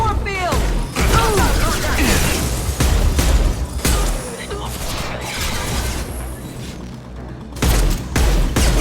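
Intense gunfire and impacts in the video game Mass Effect 2 combat, loud continuous volleys with crashes and booms throughout, mixed with voices.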